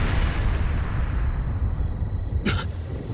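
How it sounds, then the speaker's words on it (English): A villa explosion in the video game Trails through Daybreak II: a loud, sustained low rumble rolls through the whole stretch, with a sharp burst cracking out near the end. "What was that explosion?"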